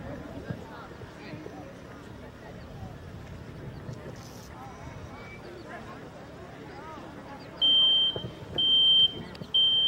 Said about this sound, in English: Smoke detector activated relatively quickly, which was good.